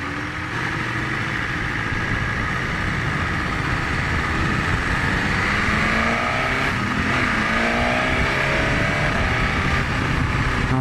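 A 2020 BMW S1000RR sport motorcycle accelerates hard with a quick shifter, its engine note climbing in repeated rising sweeps as it moves through gears, loud and close throughout.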